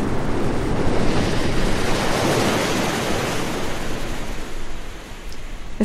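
Sea waves wash onto the Suffolk coast near Aldeburgh, a continuous loud roar of surf that swells and slowly eases, with some wind rumble against the microphone and no talk.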